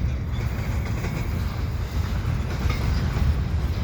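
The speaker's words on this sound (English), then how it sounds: "You can see the train. You can see the containers. And some mixed freight." A CN freight train hauling auto racks, containers and mixed freight rolls past in winter at Dorval, giving a steady rumbling roar with faint rail clatter and no talk.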